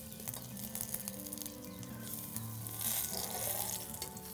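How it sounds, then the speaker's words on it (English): Pea and nettle fritters frying in a pan over an open fire, a soft continuous sizzle with a brief scrape and shuffle as they are flipped, fairly quiet and close. "So we're just going to give them a little flip."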